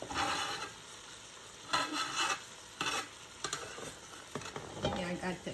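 Onions cooking in a pot for homemade vegetable beef soup, with a steady close sizzle and repeated stirring scrapes in bursts, a voice faintly in the background.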